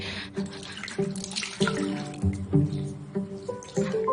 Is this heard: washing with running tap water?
yes